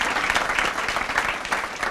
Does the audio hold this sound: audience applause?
yes